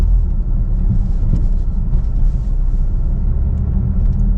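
A car with a rattly exhaust valve turns around at low speed, giving a steady, loud, close engine rumble with a dense low drone throughout.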